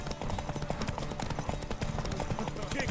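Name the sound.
horse galloping hooves in video game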